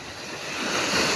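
Sea waves washing onto the shore at sunset, a steady close rush of surf with wind noise, swelling slightly louder toward the end with no voices.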